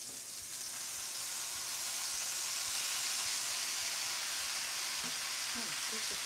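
Bok choy and Chinese cabbage fry in a little cooking oil with a loud, continuous hiss and sizzle, steady throughout, with faint clinks and stirring sounds under it.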